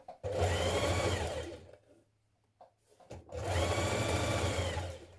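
A sewing machine hems the bottom of a skirt in two close, loud bursts of stitching separated by a quiet pause with small handling noises.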